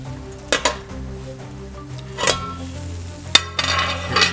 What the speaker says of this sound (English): stirring them so they roast on all sides